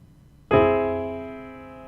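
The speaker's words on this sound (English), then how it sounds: "So that right there is the augmented sound." A single augmented chord struck once, ringing out with a sharp attack and a slow, smooth decay, clear and alone.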